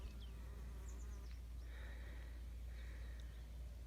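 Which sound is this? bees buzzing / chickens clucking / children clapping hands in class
bees buzzing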